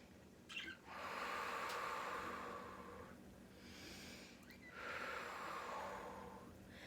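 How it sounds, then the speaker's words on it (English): Two slow, deep breaths, each a long airy inhale flowing into a long exhale, are heard close and clear with a short pause between them and no talk over them. "Deep breath in, deep breath out. And 2 more breaths in and out."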